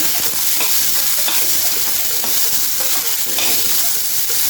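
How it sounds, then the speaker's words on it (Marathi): A cup of peas sautéing with garlic cloves in a pan over medium gas, a loud close sizzle with the steady scrape and rustle of stirring throughout. "एक वाटी मी मटार घालून घेते आहे मी ते छान असं मिडियम गॅसवरती परतून घेणार आहे"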